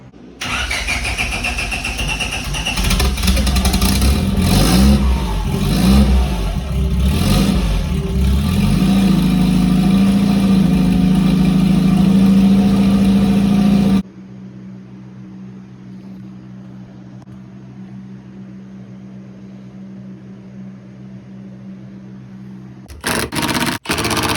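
A boosted Honda Integra running on E85 starts up and revs hard for several seconds, loud and close, then cuts to a quieter steady running drone before a brief burst of engine noise returns at the end.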